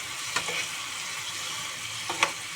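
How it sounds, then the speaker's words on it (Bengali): Fried soybean chunks are stirred in a hot pan with a soft, steady frying sizzle, close up and with no voices, while a couple of brief scrapes of the spoon against the pan come through. "আর দিয়ে দিব সয়াবিন ভাজা, খেতে ভালো লাগবে মুখে পড়লে। তারপর ভালোভাবে নেড়ে দিয়ে দেব।"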